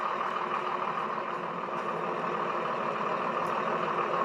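A tractor engine in a farming video game idles and runs at a steady, continuous drone, loud and even throughout with no voices.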